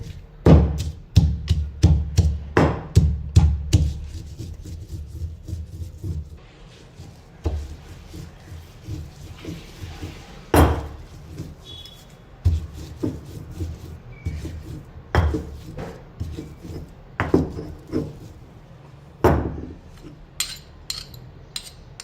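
Peanuts and green chillies being pounded fine for a spicy potato thecha, heard as a loud series of rapid, uneven thuds that thin into sparser knocks and clinks.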